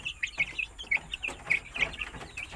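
Bangkok chickens clucking and chirping in a steady stream of short, bright calls, fairly close, with no talking over them.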